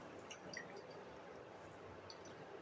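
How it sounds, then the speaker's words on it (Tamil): Water drips and squishes faintly as fresh chhena cheese for rasagulla is squeezed out, with small irregular droplets and wet squelches, close and quiet. "இப்போ இதில் சுத்தமாக வந்து தண்ணி இல்லாமல் நல்லா வந்து பிழிஞ்சு எடுத்துக்கிறணும்"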